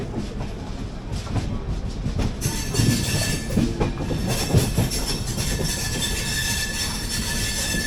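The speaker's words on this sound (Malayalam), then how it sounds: "ഏതാ ട്രെയിൻ എന്നറിയില്ല." A train passes through Krishnarajapuram station close by, with a loud, sustained rumble, rhythmic wheel clatter and high metallic wheel squeal running throughout.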